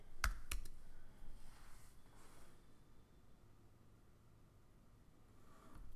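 A computer mouse gives a few quick, crisp clicks up close at the start and once more near the end, with quiet hiss and faint breathing in between.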